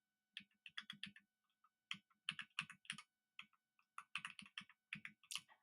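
Keys on a computer keyboard clatter as a terminal command is typed, quiet clicks arriving in quick bursts separated by short pauses, with no voices.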